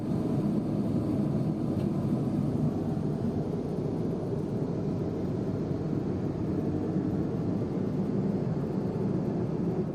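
Cabin of a China Eastern Airbus A330-300 during descent, a steady, loud broadband rumble and airflow hiss that stays even and continuous with no voices.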